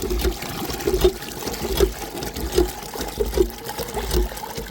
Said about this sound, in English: Both of these wells I have on the property will fill a 5-gallon bucket in under 20 seconds